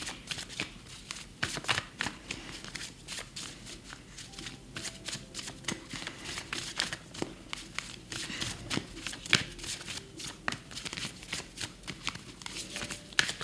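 Oracle cards from a Monology deck being shuffled and handled, a steady run of soft papery riffles and flicks with occasional sharper slaps, close and fairly quiet, with no talking.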